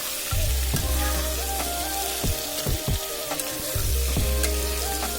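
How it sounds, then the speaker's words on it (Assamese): Jackfruit flower curry fries in a pan with a loud, close sizzle, broken by several sharp clacks and scrapes from stirring. "গোটেইখিনি ধুনীয়াকৈ অলপ সময় এনেকৈ ভাজি ল'ব"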